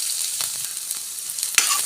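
Chopped shallots sizzle and crackle in a hot pan as they are stirred, a steady frying hiss with a few louder scrapes, close and fairly loud.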